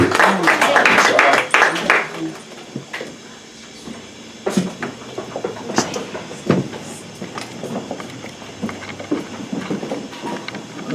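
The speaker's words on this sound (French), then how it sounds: "recevoir l'applaudissement ensemble" Applause from a church congregation at a Sunday service, honoring the preacher: a loud burst of clapping that fades after about two seconds into scattered claps, shuffling and faint voices in a reverberant hall.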